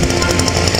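The engine of a Carver T 300 motor cultivator runs just after starting, a loud, steady, fast-pulsing putter with a throbbing rhythm.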